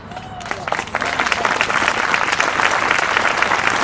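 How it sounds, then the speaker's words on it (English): Applause from a crowd gathered at an outdoor vigil at a skatepark in Ann Arbor rises from scattered claps into steady, dense clapping heard at moderate distance, with a faint voice near the start. "I'm glad that got applause."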